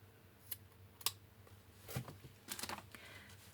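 Scissors snip through a length of ribbon while a Christmas gift bag is tied closed, giving a few short, crisp clicks spread over a few seconds, close and fairly quiet with no talk.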